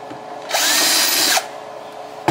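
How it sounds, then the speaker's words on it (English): A power drill bores a pilot hole into hardwood such as oak or maple in a single loud, close, high whining burst of about one second, then quiet. "Using hardwoods like oak and maple, it's good to drill the four pilot holes, so that way you don't split the wood."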